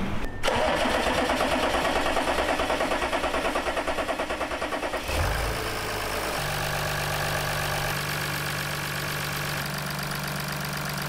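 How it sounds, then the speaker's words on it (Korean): An Audi A7 55 TDI diesel under repair, its air filter not yet secured, cranks with a rapid rhythmic starter chatter for about five seconds, then catches and settles into a steady, close idle. "이 상태에서 시동을 한번 걸어 볼게요"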